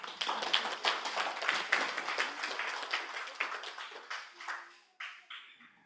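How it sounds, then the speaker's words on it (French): A small church gathering at an Adventist youth Sabbath service claps for a girl's parents, with sharp, distinct individual claps that start fairly dense and thin out to a few scattered claps. "On peut les applaudir, parents d'Orlia."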